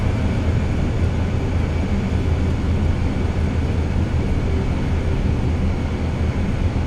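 An airliner taxiing on the ground at Geneva in Microsoft Flight Simulator 2024, heard as a steady, loud, unbroken engine drone and rumble with no talking.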